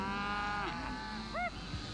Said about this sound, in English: This is a cattle drive.